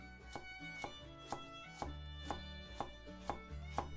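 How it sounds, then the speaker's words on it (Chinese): Knife chopping sliced radish into thin strips on a cutting board, with about eight sharp, evenly spaced knocks over a steady low background, close and clear with no talking. "我喜欢把萝卜切片，摆整齐了，"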